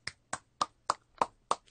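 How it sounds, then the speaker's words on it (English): A man claps his own hands six times in a quick, even rhythm, each clap a sharp, close snap with silence between and no talking. "That is me applauding myself."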